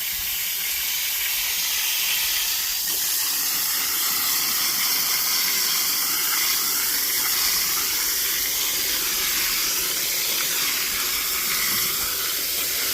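Water spray hisses steadily against a New Holland T6050 tractor engine as it is flushed out, a continuous close broadband rush with no breaks and no talking.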